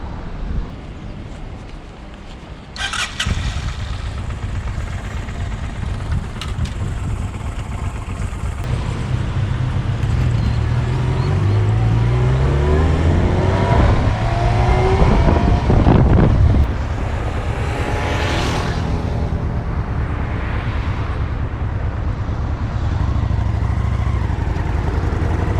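A Honda Shadow and a Yamaha XJ6 Diversion start up and ride off on a touring run, engines revving through shifts under heavy wind rush that steadily covers most of the motor sound.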